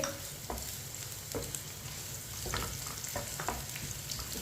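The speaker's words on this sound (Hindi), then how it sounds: "प्याज को हल्का सा ब्राउन कर लेंगे।" Finely chopped onion sizzles steadily in hot oil in a pan for masoor dal, a continuous close frying hiss with a few soft stirring scrapes and no voices.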